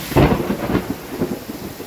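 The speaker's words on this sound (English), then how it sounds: "big lightning and thunder too" Low rumbling thunder rolls beneath a steady wash of heavy rain, loud and close, with no voices.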